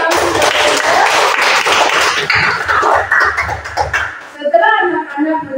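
Children clap together in a room, producing dense, lively applause that holds steady for about four seconds before fading out, and a voice then begins speaking.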